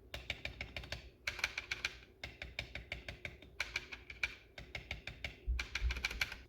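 Ducky One 2 Mini mechanical keyboard typed on in rapid, steady bursts of crisp key clacks with brief pauses between runs, close and clear with no talking.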